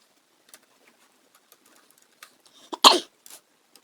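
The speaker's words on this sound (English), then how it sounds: "Still got this little cough of mine." One short, sharp cough breaks out close by from a man with a lingering cough. It stands out against small scattered clicks from laptop repair work on a quiet bench.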